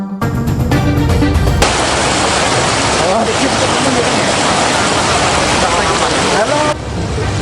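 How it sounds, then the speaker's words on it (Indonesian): Floodwater from the broken embankment of the Cabean River in Tologoweru village, Demak, Central Java, pours across a road and into homes. A loud, steady broadband roar of rushing water fills the whole clip and stays close and unbroken. "Jebolnya tanggul membuat air mengalir deras ke jalan dan permukiman warga."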